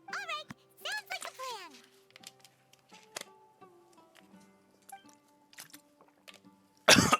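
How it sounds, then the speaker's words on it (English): Coughing after choking on water, several harsh coughs and throat clearing near the start, then quieter clicks and scattered noises, with a sharp loud burst at the end. "why do I always choke on water?"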